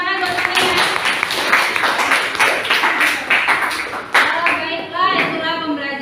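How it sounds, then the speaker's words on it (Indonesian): A classroom of students claps together in a dense burst of applause, loud and close, with children's voices and chatter mixed in underneath. "beri tepuk tangan buat Fania"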